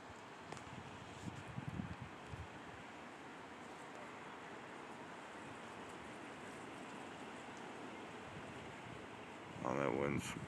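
Gusty wind blowing outdoors at night, a steady broad roar of air buffeting the microphone with brief rises, captured alone without speech.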